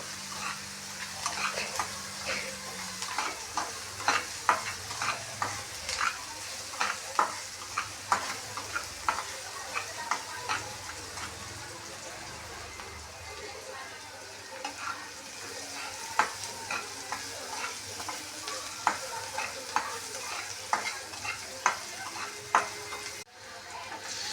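Onion frying in a pan, a quiet continuous sizzle broken by frequent rhythmic scrapes and taps of a spoon stirring, close and steady throughout.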